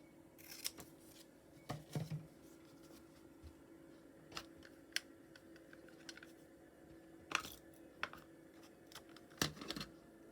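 Scissors snipping through cardboard and paper at a craft table while making a junk journal page, a handful of short, crisp cuts spaced irregularly and close by, with quiet pauses between them and no talking.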